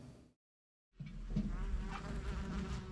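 Asian giant hornets buzz in a steady, droning hum that starts abruptly after a brief silence and continues close and fairly loud.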